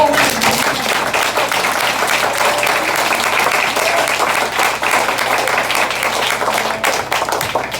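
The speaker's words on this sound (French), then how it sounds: "On applaudit Jésus parmi nous" Church congregation applauding in praise of Jesus, a steady dense wash of clapping that stays loud for the whole stretch, with a faint tonal hum and scattered voices underneath.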